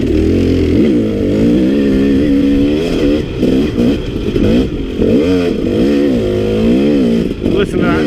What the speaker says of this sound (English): Listen to that two-stroke 250 gutted out